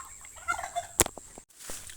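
A turkey gives a short, rattling gobble up close, followed by a sharp burst and a few scattered clucks.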